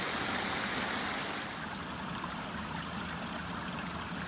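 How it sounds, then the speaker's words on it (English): A small mountain stream spills out of a little dammed pond and runs downhill on a park hiking trail, making a steady, close, broadband rush and trickle that carries on unbroken with no voices. "Making a lovely little pond with water running out of it and flowing down the mountain."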